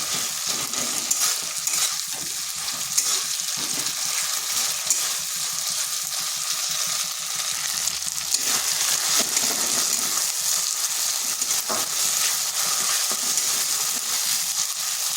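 Ginger-garlic paste fries in a pan with a loud, dense sizzle that runs nonstop, broken by occasional stirring scrapes and small clinks, close up and without speech.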